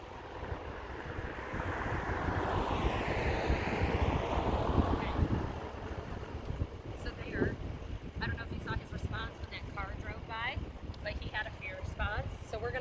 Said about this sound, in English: Wind kind of picked up for a second.